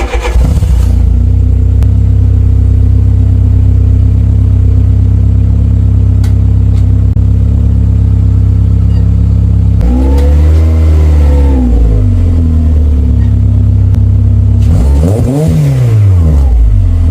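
A VW Polo 6N with a repaired gear selector pulls forward in first gear, its engine droning loudly and steadily before two rising revs near the end, with no voices.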